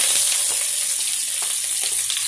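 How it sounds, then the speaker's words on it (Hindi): Onion frying in hot oil with fenugreek seeds for a dhaba-style masala bhindi, a steady loud broadband sizzle with faint crackles and stirring, no talk. "ये मेथी दाने के बाद हम इसमें प्याज ऐड करेंगे।"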